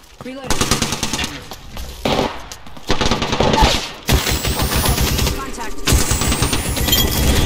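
Rapid automatic gunfire from a shooter video game comes in loud, dense bursts separated by short pauses, with sharp, close, rattling shots.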